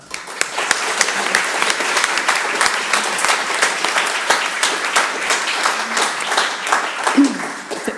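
An audience at a talk applauds to welcome the speaker Ásta, steady dense clapping from a sizeable crowd that holds evenly for the whole stretch.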